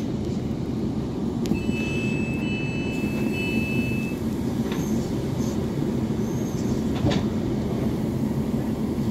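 Steady low rumble and rattle of a Class 450 electric train heard from inside a carriage, with brief high whines and faint clicks, continuous throughout.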